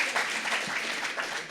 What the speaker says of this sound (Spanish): Ese aplauso no lo entiendo.